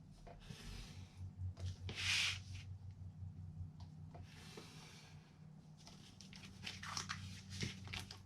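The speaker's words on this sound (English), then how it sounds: "I'm just going to use my finger blade and we're going to trim this piece out" A finger blade trims a chipboard piece for a luggage tag made from placemats, giving faint, close, soft scratchy cutting strokes in short bursts against a quiet background hum, with no talk.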